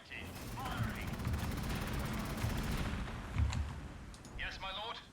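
Gunfire from Astra Militarum units in the strategy game Gladius: a rapid, rattling burst of shots over a low rumble, followed by a softer shot and brief clicks, with fragments of in-game voice lines.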